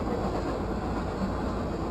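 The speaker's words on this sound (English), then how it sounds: "there just happens to be one of these mile-plus super trains going by right now" A very long freight train rolls past beside a desert highway, a steady, loud, dense rumble and rail roar filling the whole stretch with no break.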